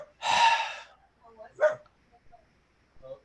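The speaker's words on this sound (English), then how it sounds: "Sounds like that dog's barking up the wrong tree." A dog barks nearby, one loud drawn-out bark followed by a shorter second bark, with quieter scattered sounds and faint voice-like noise in between.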